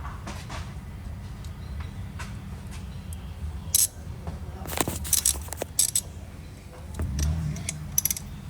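A ratchet with a number 14 socket works on bolts of a 2007 Nissan Sentra 2.0 engine, giving bursts of quick metallic clicks and clinks up close, with light tool handling between them.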